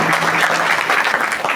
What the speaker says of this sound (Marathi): एकदा जोरदार टाळ्या वाजवा महाराजांचा.